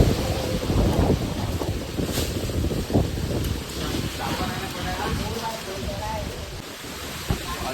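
Strong storm wind blows in rough, rumbling gusts that batter the microphone, loud and continuous with sharper surges now and then outdoors.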